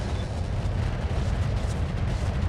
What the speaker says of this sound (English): Enjoy the barrage.